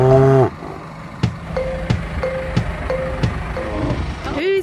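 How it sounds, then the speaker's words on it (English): A dairy milking cow on a farm lets out a long, loud, close moo, followed by several shorter, clipped lowing calls at a steady spacing, with a final rising moo at the end. "Now it's time to take some hay to Clarabelle, our milking cow"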